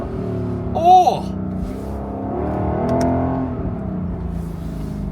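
A Lexus LC500 with a naturally aspirated V8 hums under load, and its engine note swells and rises midway. A person exclaims once near the start.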